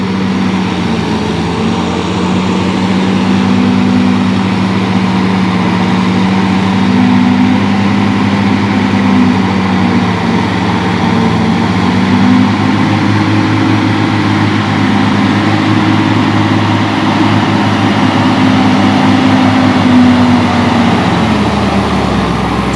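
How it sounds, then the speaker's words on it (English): A 435-horsepower tractor's heavy diesel engine drones steadily and loudly while pulling an earth mover, its low rumble rising and falling slightly throughout with no talking. "It's a 435 horse tractor"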